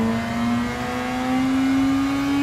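Race car engine held at full throttle through a corner, a loud sustained drone with a steady pitch creeping slightly upward, heard close with no talk.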